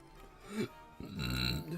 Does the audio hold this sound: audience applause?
no